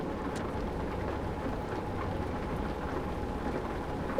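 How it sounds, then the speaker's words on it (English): Rain in a driving video game, with a constant dense hiss of rainfall and a low rumbling bed beneath it, steady and even throughout with no talking. "And it's raining."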